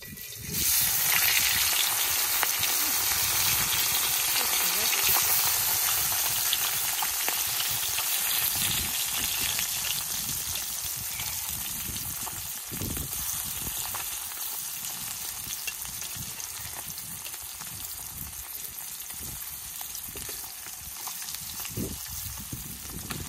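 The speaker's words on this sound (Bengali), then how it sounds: "পুঁটি মাছের এক পিঠ ভাজা হয়েছে, এখন তাহলে উল্টিয়ে নেই।" Spiced puti fish fry in hot oil in a pan, giving a steady, dense sizzle that runs unbroken for over twenty seconds and eases slightly toward the end, with no talking.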